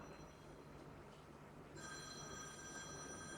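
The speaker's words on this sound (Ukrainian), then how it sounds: "Це дзвоник мій телефон" A phone starts ringing partway through, a steady electronic tone pattern over constant low background noise, with no talking.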